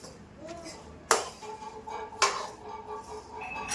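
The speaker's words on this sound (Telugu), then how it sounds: "మనకి తెలిసిపోతుంది అప్పుడే సౌండ్, పప్పులు రోస్ట్ అవుతున్నప్పుడు" Lentils roast on low heat in a pan for homemade baby cereal while a spoon stirs them, making soft scraping rustles and two sharp metallic clinks against the pan.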